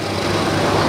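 A BMW 220i engine runs steadily and loudly off a booster, a continuous buzzing drone with no pauses or voices.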